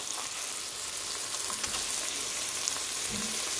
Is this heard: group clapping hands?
no